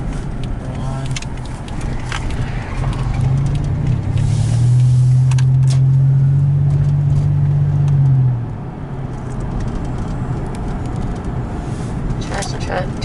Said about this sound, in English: Trash truck turning.